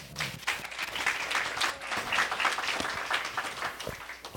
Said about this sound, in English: you don't have to clap after everything that we're saying up here